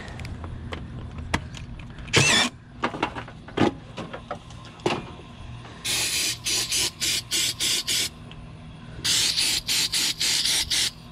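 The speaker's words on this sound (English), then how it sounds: "And I will clean my MAF so that way it can meter the good air." Aerosol mass airflow sensor cleaner sprayed onto a car's MAF sensor, heard as repeated short hissing bursts in two clusters, preceded by a longer spray and scattered clicks and clunks of handling nearby.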